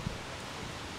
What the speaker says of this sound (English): It's getting a bit windy, isn't it?